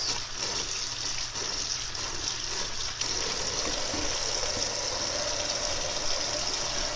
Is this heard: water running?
yes